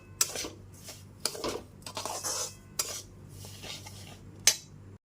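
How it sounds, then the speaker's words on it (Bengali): A spoon stirs sugar into semolina in a pan for Bengali suji halwa, giving a series of scraping strokes and sharp metallic clinks against the pan, close and alone. "চিনিটা দিয়ে খুব ভালো মতো মিশিয়ে নিচ্ছি"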